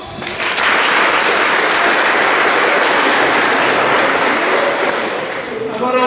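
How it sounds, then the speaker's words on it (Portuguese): A congregation in a church applauding during Mass, loud sustained clapping that fills the room at a steady level for several seconds before tapering slightly. "Vamos acolhê-los com uma salva de palmas"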